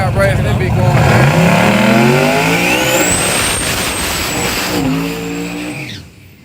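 Boosted drag race car at a street drag track, the engine revving loud and close with rising harmonics, then roaring off with tire noise before fading, while spectators talk over it.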